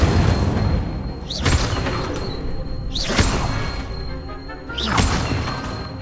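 In the video game Hogwarts Legacy, the Incendio fire spell is cast three times, each a sharp whooshing burst at evenly spaced intervals over a steady game background, with no talking.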